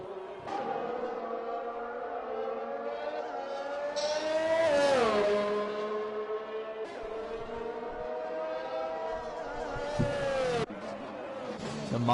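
Alpine racing car in a sim racing game, engine note rising and falling steadily through gear changes and a hairpin, loud and continuous, with a commentator's voice faintly underneath.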